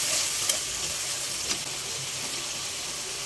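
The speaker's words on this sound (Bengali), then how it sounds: "ভালো করে মিক্স করে নিচ্ছে আম্মু মশলাটা" Onion paste and ginger-garlic paste masala is stirred in a pan, giving a soft, steady sizzle with a couple of sharp scrapes of the spoon against the pan.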